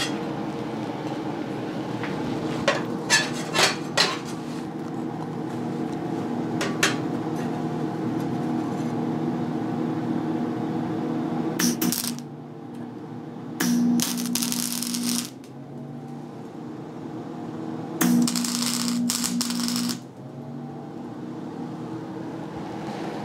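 Short bursts of tack welding on thin metal panels of a Mini car give harsh crackling sizzles in a few separate spurts, close by, over a steady workshop hum with quiet gaps between welds.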